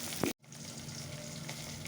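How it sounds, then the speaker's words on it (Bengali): Fish marinated in salt and turmeric sizzles steadily in a pan of oil, a dense, even hiss that drops out for an instant near the start and then carries on alone. "মাছগুলো ভাজা বসিয়ে দিলাম"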